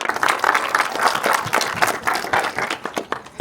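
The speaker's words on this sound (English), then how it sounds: "let's give her a round of applause" A crowd at a community fundraiser with a congressman claps steadily and fairly close, a brisk burst of hand clapping with no talk over it, thinning slightly toward the end.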